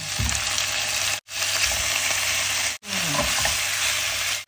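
Garlic, onion, ginger and chicken gizzards frying in a pan for adobo, a loud continuous close sizzle with occasional stirring knocks, broken by two brief silent cuts, no talking.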